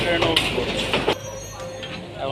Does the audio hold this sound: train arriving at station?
yes